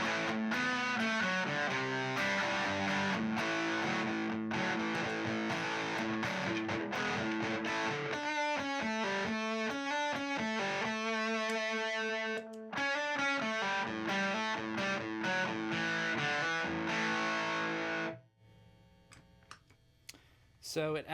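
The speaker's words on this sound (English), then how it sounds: "Boss DS1 Analogman modded distortion pedal, and then let's hear it afterwards with the Beano Boost in front" An electric guitar through a Boss DS-1 distortion pedal with an Analogman mod plays loud, heavily distorted chords and riffs for most of the stretch, then drops out near the end, leaving a few faint picked notes.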